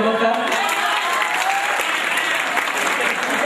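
Students in an audience applaud a mimicry artist on stage, producing a loud, sustained, even roar of many hands clapping with a faint murmur of voices underneath.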